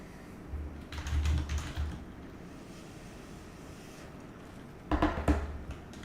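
Two short bursts of fast typing on a mechanical keyboard with Cherry MX Black switches, close and clattering over a low background hum, with no talking.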